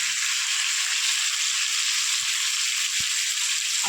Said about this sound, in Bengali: প্রথমে আমি আলুগুলো লাল করে ভেজে নেবো